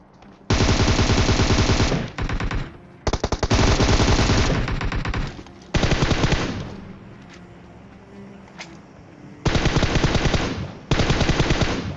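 Gunfire in a PUBG Mobile fight comes as loud, sustained bursts of rapid automatic fire, several long strings broken by short gaps, close and dominant with no talking over it.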